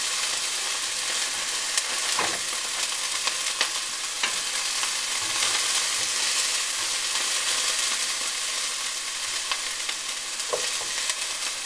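Bell peppers sizzle steadily in a frying pan for an egg white scramble, a dense continuous hiss with a few soft scrapes and clacks from a utensil stirring them.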